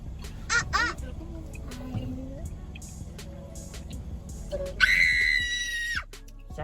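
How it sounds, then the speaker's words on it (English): A child screams in short bursts, then lets out one long, high, piercing shriek near the end, loud and close, over a low background hum with scattered bird-like chirps. "Stop screaming."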